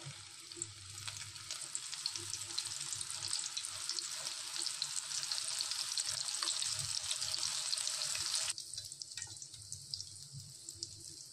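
Soybeans deep-frying in hot oil give a steady, dense sizzle and crackle that holds throughout, easing slightly near the end, with no voices over it.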